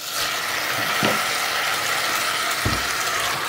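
A steady close sizzle of onions frying in hot olive oil in a saucepan, with a couple of soft clicks.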